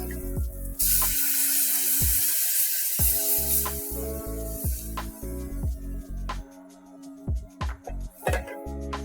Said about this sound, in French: Je mets l'équivalent à peu près 100-150 ml de bière